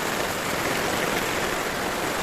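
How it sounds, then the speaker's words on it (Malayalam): Heavy rain pours down in a dense, steady hiss, loud and continuous with no voices. "നല്ല മഴ, അടിപൊളി, നല്ല ശക്തിയിൽ മഴ പെയ്യുക."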